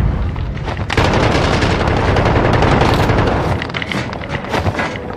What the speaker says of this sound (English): Shoot the gun!